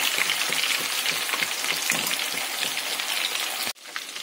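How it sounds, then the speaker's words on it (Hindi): Chicken kabab pieces frying in a pan over medium heat, a steady dense sizzle and crackle throughout that cuts off abruptly near the end. "मीडियम आंच पर फ्राई कर लें ताकि ये आसान से अच्छे से अंदर से भी पक जाए।"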